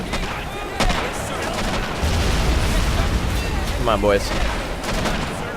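Battle gunfire in Men of War: Assault Squad 2 against Japanese forces: scattered booming shots and rattling fire over a dense rumbling din, with a voice speaking briefly.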